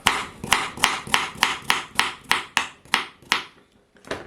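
A kitchen knife slicing through carrots on a cutting board, about a dozen crisp, evenly spaced chops close up and alone, slowing slightly before a final cut.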